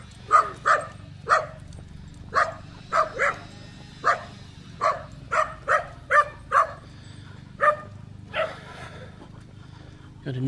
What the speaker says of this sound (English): Got a noisy dog there.